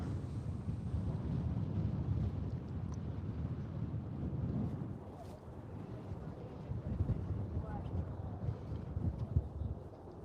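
Strong wind buffets the microphone on the deck of the cruise ship MSC Meraviglia leaving New York City, a constant low rumble with a faint mechanical drone beneath and no voices.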